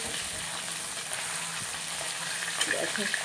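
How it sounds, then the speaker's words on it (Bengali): Fish frying in a hot pan at home in the morning, a steady bright sizzle throughout, with a few sharper crackles and spatters near the end as the pieces are turned over. "দেখো বন্ধুরা, মাছগুলো এখন উল্টিয়ে দেবো"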